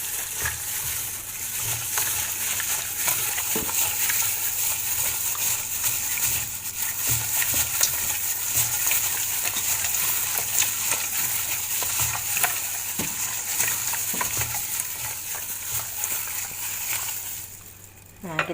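Chicken satay being stirred with sweet soy sauce in a hot frying pan, a continuous sizzle with scraping and stirring noises throughout, briefly quieting near the end.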